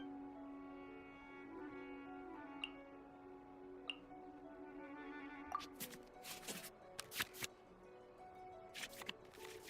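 Card-shuffling effects from the Genshin Impact card game: soft clicks and a cluster of quick papery swishes over quiet, sustained tonal game music, faint and close.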